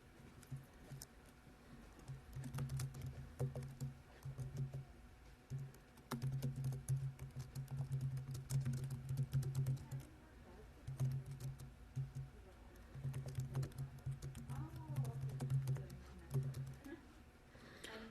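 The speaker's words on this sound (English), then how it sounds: "So I'm just typing something generic here." A computer keyboard clacks in quick bursts of typing, pausing between runs, as a research paper is typed out; the keystrokes sit fairly close and moderately loud.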